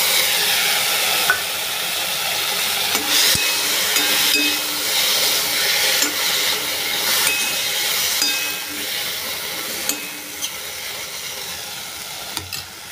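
Coriander with roasted red capsicum and tomato frying in a pan for chutney, a loud continuous sizzle with occasional stirring scrapes and clicks throughout.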